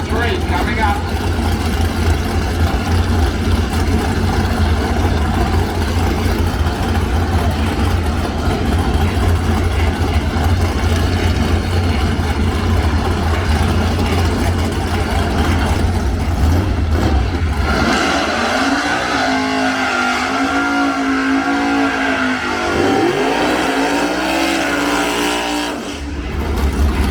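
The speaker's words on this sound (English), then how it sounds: "She's not scared of doing the burnout, so she'll put on good" A race car at a summit track championship drag meeting holds a loud, sustained engine roar with rising revs, consistent with a burnout, then drops to a lower, uneven rumble as it eases off, with a track commentator talking throughout.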